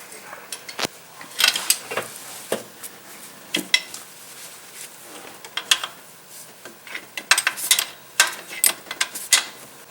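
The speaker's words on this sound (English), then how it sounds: "Then remove the nut that holds the ground wires." Ratchet wrench loosening the nut that holds the ground wires on a Dodge truck power steering pump, with repeated sharp metallic clicks and clanks in irregular bursts, close and fairly loud.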